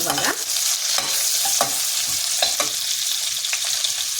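A spoon stirs a sizzling tempering of turmeric and reddened cumin in a pan, with steady close frying hiss and repeated scraping strokes at an even pace.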